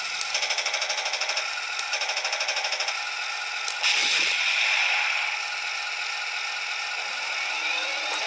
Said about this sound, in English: and then there's the machine gun